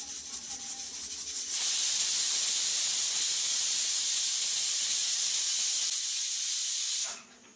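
Pressure cooker or pot of sprouted moth beans cooking for Kolhapuri misal, giving a loud, steady steam hiss that starts abruptly, holds for several seconds and then cuts off, with no talking.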